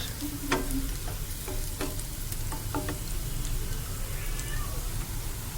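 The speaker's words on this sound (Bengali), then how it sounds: "ফ্রাই করছি রসুনটা একটু বাকি আছে" Chopped garlic frying with onions in a pan, a steady soft sizzle under a voice, with a few sharp scraping stirs and clicks of a spatula.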